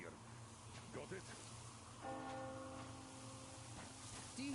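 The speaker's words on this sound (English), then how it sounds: "Do you hear that bell?" A bell tolls in the distance in the video game Metro Exodus, rising midway as a faint, sustained ringing tone beneath a dense, rumbling ambient background.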